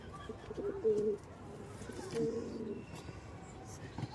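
White-eyed teddy pigeons coo in two short bursts near the start and middle, a moderately close throaty murmur over a quiet background.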